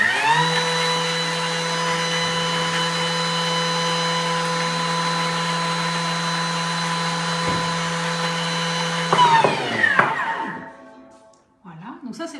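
A Thermomix TM6 blends pineapple and strawberries at speed 10 with a loud, steady motor whine and strong harmonic hum that holds for about nine seconds, then winds down and stops, leaving faint handling noises.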